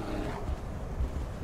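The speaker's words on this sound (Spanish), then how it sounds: "¡Oh! ¡Oso!" A bear in The Elder Scrolls V: Skyrim lets out a low, rumbling roar that sits in the bass under a breathy, wind-like wash, fairly quiet and continuous.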